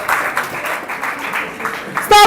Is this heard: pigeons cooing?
no